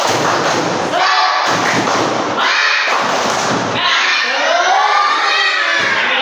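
Third-grade schoolchildren in a classroom perform a tepuk semangat clapping chant, with loud unison claps and shouted voices in a bouncing rhythm, punctuated by sharp gaps between phrases.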